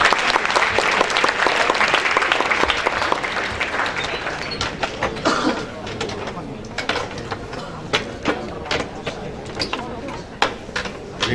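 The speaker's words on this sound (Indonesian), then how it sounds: "Bisa berikan tepuk tangannya teman-teman." Audience applause at a university guest lecture on entrepreneurship and innovation, a loud dense burst of clapping that tapers into scattered claps while voices murmur.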